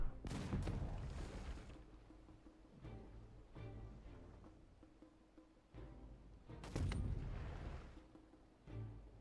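Two heavy booming cannon blasts in the video game Humankind, each followed by a rumbling, crackling tail, with quieter thuds and distant battle noise between them.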